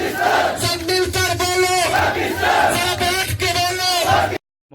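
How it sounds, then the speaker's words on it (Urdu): Thousands of workers at a Pakistan Day gathering in Saudi Arabia chant Pakistan Zindabad and Kashmir slogans, loud rhythmic crowd shouts in call-and-response bursts that cut off abruptly near the end. "ہزاروں ورکرز نے پاکستان زندہ باد اور کشمیر بنے گا پاکستان کے نعرے لگا کر ماحول کو پرجوش بنایا"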